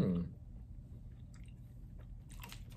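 A strawberry Charleston Chew candy is chewed up close, with a firm bite at the start and then soft, sticky, wet mouth sounds and faint smacking, and no talking.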